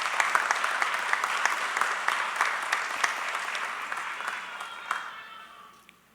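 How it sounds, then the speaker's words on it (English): Sustained applause from an audience at a police academy graduation ceremony, steady dense clapping that fades out toward the end. "How about a round of applause for Class 251 and the great job they did for their inspection."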